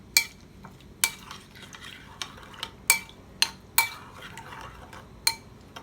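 A spoon stirs a salt and lemon-juice cleaning mixture in a container, giving intermittent sharp clinks and scrapes against the sides with quiet swishing between, close up and without talking.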